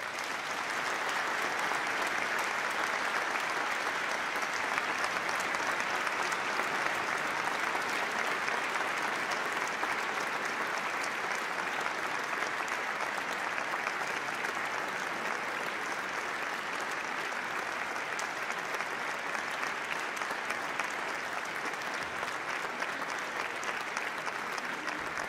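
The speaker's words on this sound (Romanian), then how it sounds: "Vă invit să îi aplaudăm pe acești soldați ai păcii și armoniei." An audience at the 2017 Iosif Ivanovici gala concert applauds in a long, sustained, even wash of clapping that fills the hall without pause.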